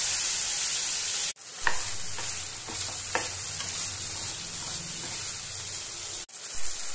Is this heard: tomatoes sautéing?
yes